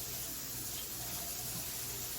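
Vegetables are rinsed under a running kitchen tap, a steady close rush of water with no break and no voices.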